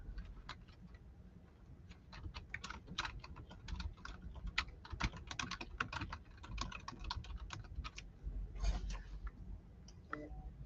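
Fingers type on a computer keyboard while an eBay listing is written, giving a steady run of quick, uneven clicks and taps with short pauses, close and fairly quiet, with no talking.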